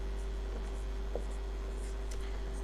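A hand writes out a sentence, making faint, light scratching strokes in short intermittent bursts over a steady low background hum, with no talking.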